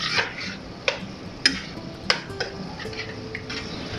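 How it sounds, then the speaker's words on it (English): A spoon scraping and clinking in a pan while salt, pepper, garlic and onion powder are stirred into ground beef, sharp ticks spaced irregularly over a soft low background. "And we're going to stir that in."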